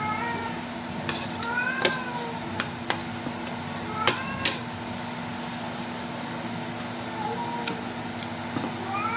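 A pet cat meows repeatedly, several short rising calls spread across the stretch at moderate distance, over a steady indoor background hum with no talking.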